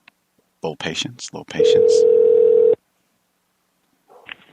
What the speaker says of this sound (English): You might hear a ring in the background.